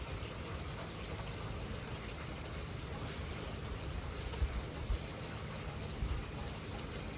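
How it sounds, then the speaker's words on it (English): Summer rain falling steadily, a soft continuous wash of water with faint low rumbling and a few small bumps, heard alone without voices. "It's a nice summer rain."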